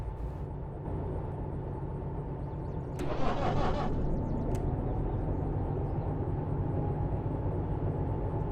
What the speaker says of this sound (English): We need to start up this engine.